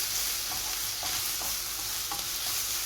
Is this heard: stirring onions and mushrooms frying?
yes